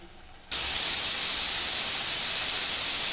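Chopped tomatoes with ginger and garlic hit a hot pan and burst into a loud, continuous sizzle that starts abruptly and holds steady close up.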